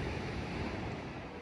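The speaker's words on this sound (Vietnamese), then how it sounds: "Sóng biển đánh dạt vào." Sea waves washing ashore near the Funaya boathouse village of Ine, Kyoto, heard as a constant low roar of surf mixed with wind rumble on the microphone, fairly faint and with no voices.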